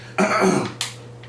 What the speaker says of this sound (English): Let me clear my throat.